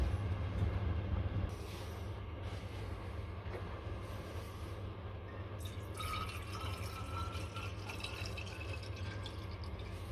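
Water runs steadily into a homemade washer bottle, a continuous trickling and filling sound over a low steady hum, with slight splashes growing brighter toward the end.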